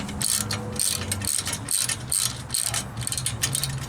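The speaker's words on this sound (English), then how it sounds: "back your bolt out" A hand ratchet clicks rapidly and rhythmically as a bolt is backed out of a rivnut insert set in sheet metal, close and fairly loud.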